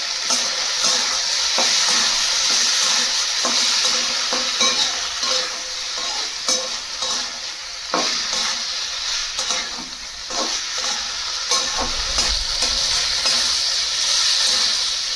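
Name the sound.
soybeans being stir-fried in a pan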